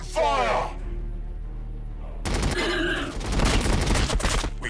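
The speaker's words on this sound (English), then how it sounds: "Open fire!" Gunfire in the Warhammer 40,000 Battlesector strategy game: a dense, continuous fusillade of rapid shots that erupts partway through after a shouted voice-line order, with battle noise layered throughout.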